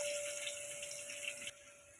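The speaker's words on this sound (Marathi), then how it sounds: "टमॅटो धुवायचा आहे मला" Water runs steadily from a kitchen tap while tomatoes are washed, a close, even rush for about a second and a half before it drops away to a quieter hiss.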